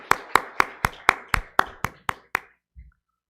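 A church congregation at a Thanksgiving Sunday worship service claps about ten times in a steady, evenly spaced rhythm. The claps are sharp and unison, then stop, leaving quiet.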